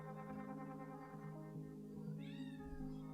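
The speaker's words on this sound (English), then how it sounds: "It's my cat again. Jeez, he is persistent." A persistent house cat meows nearby, its drawn-out cries rising above a steady hum of background game music.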